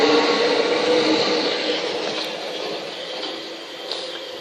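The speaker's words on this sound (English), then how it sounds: "And off goes 378230 with the 1507 London Overground service to Highbury and Islington." London Overground class 378 electric train 378230 departing on the Brighton Main Line at Honour Oak Park: a loud, broad rushing rumble with metallic rail squeals, slowly fading as it pulls away.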